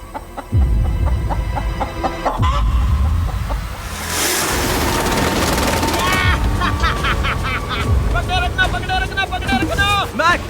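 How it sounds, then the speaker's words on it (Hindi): A chicken on a deserted island clucks and squawks after being caught, repeated agitated calls rising toward the end, with people talking and rough handling noises around it. "मैंने मुर्गी पकड़ ली।"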